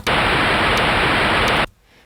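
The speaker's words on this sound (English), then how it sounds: "Now if I turn this oscillator off and just have the white noise, you'll hear that it sounds like it's sort of got a low pass filter on it." Bright, steady white noise from an Ableton Operator synth patch with its oscillator switched off, loud and even for about a second and a half before cutting off abruptly into near silence.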